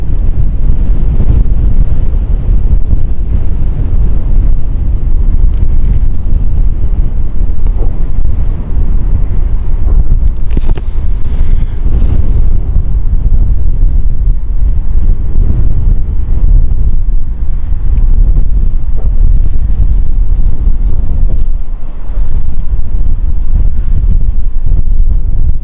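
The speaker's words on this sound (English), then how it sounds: "Runway very windy all of a sudden now." Strong, gusting wind roars continuously across an airport runway at Gatwick, buffeting the microphone with loud, rumbling low-end noise that surges and eases throughout.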